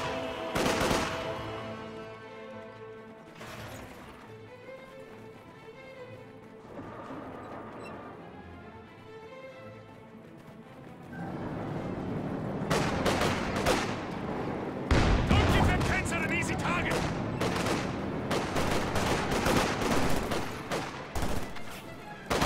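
Anti-tank gun firing through a hedge in Company of Heroes, sharp cracking shots building into a dense, fast barrage of gunfire in the second half after a quieter stretch with faint voices.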